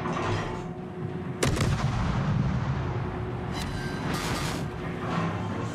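Heavy booming naval artillery fire in World of Warships, a sharp blast followed by rolling rumble, over a continuous low drone of a ship engine, a few distant shots later.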